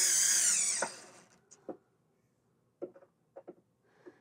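A power drill whirs briefly as it drives Phillips screws into the marquee bracket of a Williams Robotron arcade cabinet, followed by faint clicks and small clunks of handling.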